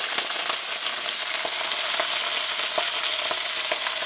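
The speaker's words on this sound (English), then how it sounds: "So now that oil has heat up, I don't want it to be too hot. I'm just going in with the cabbage right now." Cabbage fries in hot oil in a pan, a loud, steady, close sizzle with faint stirring scrapes, and no voices over it.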